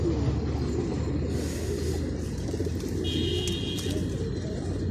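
Large pigeons kept as a flying set coo together in a steady, close chorus of low, throaty calls that carries on without pause.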